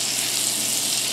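Butter melting with whole dried red chilies in a pan for a daal maash tadka, giving a steady, close, even sizzle and crackle with no talking.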